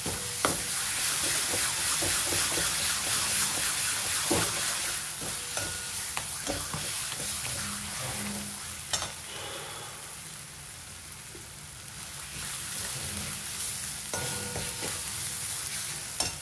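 Onions fry in a pan for a chicken dish with a steady, close sizzle, while a spoon stirs and scrapes through them in irregular clinks and knocks over the whole stretch.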